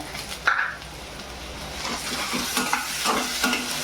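Chopped tomatoes frying in a spiced tempering for breakfast pasta, a soft crackling sizzle with a sharp hiss at the start and intermittent stirring scrapes, moderately quiet.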